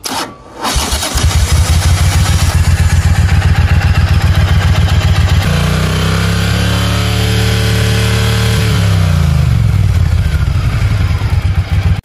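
A Triumph Thunderbird Storm cruiser with a large parallel-twin engine, 270-degree crank and stock exhaust cranks and fires up, settles into a loud, close, throbbing idle, then revs and drops back to idle.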